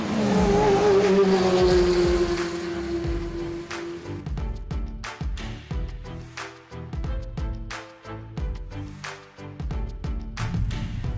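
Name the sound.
2017 Kia Rio hatchback driving, 1.4 litre petrol engine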